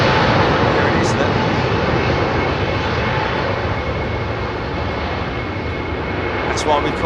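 A jet airliner at London Heathrow Airport, one wingtip's winglet half missing, gives a loud, steady broadband engine roar that holds through the whole stretch and eases slightly toward the end.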